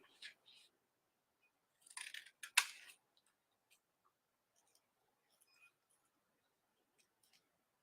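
Scissors cutting out paper craft pieces, a few quiet crisp snips in close succession followed by faint small ticks and handling noises in a very quiet room.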